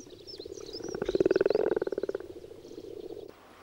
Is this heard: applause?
no